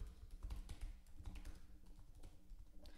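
Rapid, quiet keystrokes on a computer keyboard as a password is entered, a steady run of soft clicks with no one speaking.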